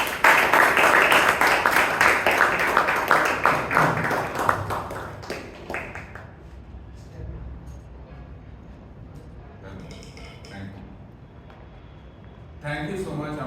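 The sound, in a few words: applause welcoming a speaker at a Toastmasters meeting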